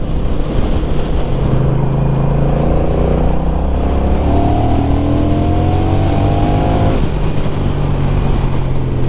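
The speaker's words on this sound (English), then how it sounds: "I do like the sound of this parallel twin." Honda CMX1100 Rebel parallel-twin motorcycle engine pulls through the gears, a loud, close, throaty drone rising in pitch, dipping at a shift, then climbing again under heavy wind rush.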